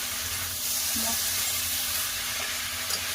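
Chickpea and potato curry is stirred in an uncovered pan, with a steady soft sizzle and hiss and a few faint scraping touches, and no voices.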